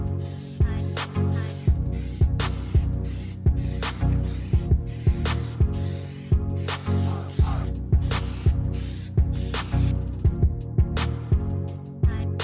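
Bursts of hissing from a spray can laying a Plasti Dip coat onto a car repeat in a steady rhythm, each short spray separated by brief pauses, close and fairly loud throughout.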